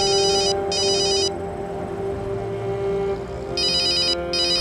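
A telephone rings in a Tamil-dubbed crime drama scene: repeated electronic ringtone bursts with short gaps over a steady background hum, and no voices.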